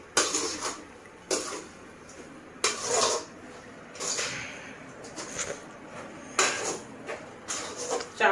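A spoon mixes amaranth leaf curry cooked with tomato pulp in a metal pot, making repeated clinks and scrapes in irregular bursts, close and fairly clear, with no talking.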